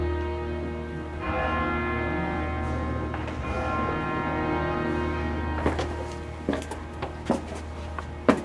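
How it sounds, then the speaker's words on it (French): The small bell of the church of Saint-Folquin in Esquelbecq rings with a sustained resonant tone, followed by several sharp, separate knocks and strikes toward the end, moderately distant. "la cloche de Saint-Folquin, la petite."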